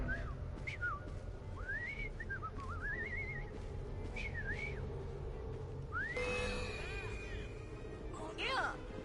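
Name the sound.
person whistling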